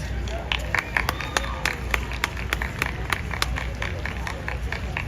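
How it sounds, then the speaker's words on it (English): A New York City crowd keeps up lively applause to welcome dancers back, individual sharp claps standing out over a steady patter, with murmuring voices and chatter beneath. "Friends, can you keep your round of applause going?"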